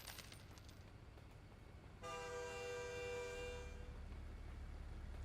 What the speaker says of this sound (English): a train probably that's nearby